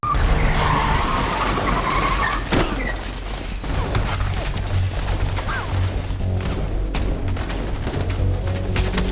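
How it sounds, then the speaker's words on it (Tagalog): A stolen car skids during a movie escape scene, with tires squealing and engine roar amid loud, dense action noise, crashes and gunfire-like bursts throughout. "Kaya nagnakaw si Shaw ng sasakyan upang makatakas"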